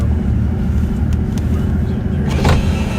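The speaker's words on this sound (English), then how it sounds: "There's the sunroof going open all the way now" Power sunroof of a 1986 Porsche 930 Turbo sliding open, a steady close electric motor whir over a low constant hum from the car.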